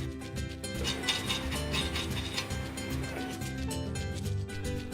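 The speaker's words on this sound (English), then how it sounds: "Mount the rotor using one bolt to secure it." Brake rotor being mounted and bolted into place, with rapid ratcheting clicks and mechanical rattling running steadily at moderate level throughout.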